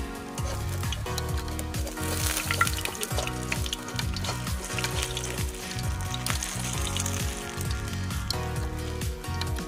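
Fish frying in hot cooking oil in a home kitchen, giving a steady dense sizzle throughout, with some rhythmic clatter and background activity underneath, fairly loud and continuous.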